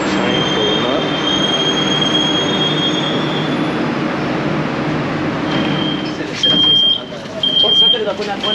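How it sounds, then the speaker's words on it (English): A Buenos Aires subway train rumbles into the station, its steady roar of wheels and carriages building with high metallic squeals of the brakes toward the end, loud and close. "So the train pulling up."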